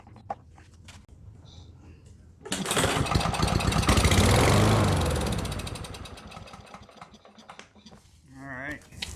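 A lawn mower engine with an empty fuel tank, fed only starter fluid, catches abruptly and runs loud and rough for about five seconds before dying away.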